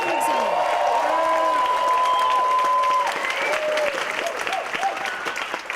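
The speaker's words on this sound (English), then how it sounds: "Just cheer like we're celebrating something." A crowd at a community event cheers and applauds on cue, a continuous roar of clapping mixed with whoops and shouting voices that stays strong throughout, easing slightly toward the end.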